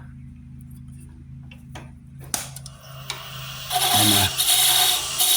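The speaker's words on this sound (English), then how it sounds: "I'm going to shape my tenon." Wood lathe shaping a tenon on a turned chain ornament: a low motor hum, then a tool catches and scraping, rasping cutting builds louder toward the end, with a brief spoken word.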